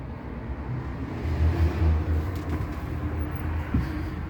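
Inside a Van Hool Altano double-decker coach on the move, a low steady engine and road rumble swells and eases, with a faint rattle and a brief knock.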